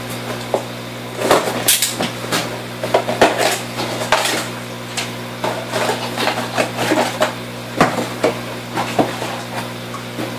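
Packaging for a Koralia aquarium circulation pump gets opened up close, with scattered clinks, rattles and crinkly handling knocks at an uneven pace.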